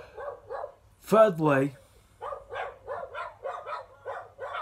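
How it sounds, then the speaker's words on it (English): A dog barks in short repeated bursts from nearby in a home, a quick series of sharp barks after someone speaks briefly over them. "sorry about my dog's barking"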